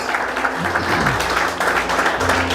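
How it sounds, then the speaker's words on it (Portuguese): Church congregation applause with scattered clapping fills the space steadily, a brief sung or spoken tone drifting underneath. "Pode aplaudir bem forte, pode glorificar."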